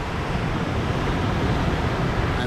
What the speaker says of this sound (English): What you hear in the background is the crashing of the waves on the beach